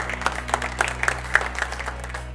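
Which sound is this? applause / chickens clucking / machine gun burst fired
applause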